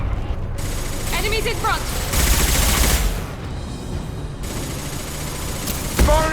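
Sustained heavy weapon fire from an impact shot in the video game Mass Effect, a dense loud barrage with booming bursts under a spoken callout and game voices.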